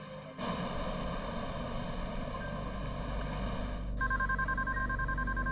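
A telephone goes unanswered, its ring cutting in near the end as a steady electronic tone over a low, continuous drone that fills the room.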